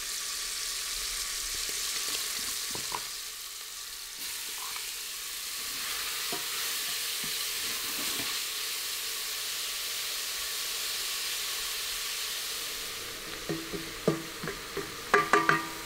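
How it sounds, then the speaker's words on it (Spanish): Finely chopped garlic and onion fry with meat in a pot for borscht, a continuous close sizzle and hiss. Stirring is heard throughout, and a burst of louder utensil clatter comes at the end. "Removemos bien y dejamos que se sofrían 10 minutos."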